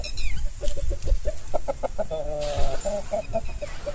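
A Bhimavaram aseel chick clucks repeatedly in short bursts, close and clear, with a few sharper calls mixed in.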